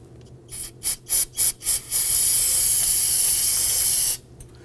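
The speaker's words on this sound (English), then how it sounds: "I want to go ahead and spray the back of this with some spray solvent" Several short bursts of aerosol brake cleaner solvent sprayed onto a wheel cylinder of a 2008-2011 Ford Focus, then one long continuous hiss for about two seconds before it stops abruptly; close and loud.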